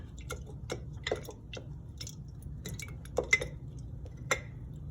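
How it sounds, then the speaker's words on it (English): Spoon clinks against a glass jar in short irregular taps while sourdough starter flakes are stirred with water, quiet and close. "So I'm going to just stir it a minute"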